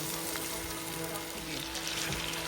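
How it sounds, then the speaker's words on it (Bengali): Bele fish marinated with turmeric and chili being sautéed in a pan, giving a constant close sizzle with a low steady hum behind it. "এখন মাছটাকে এভাবে ভালো করে কষিয়ে নিব"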